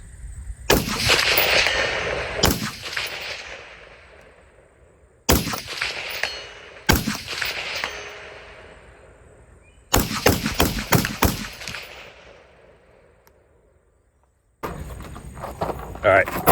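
A suppressed rifle fitted with a Sandman suppressor and flash hider end cap fires several rapid strings of loud shots, fired at a fast pace on an outdoor range, with short pauses between groups.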